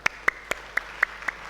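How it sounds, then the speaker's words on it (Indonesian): Six sparse, evenly spaced handclaps in a church Sunday morning service, bright and fairly close, with quiet gaps between each clap and no voices. "Sekali lagi kasih tepuk tangan untuk anak-anak kita."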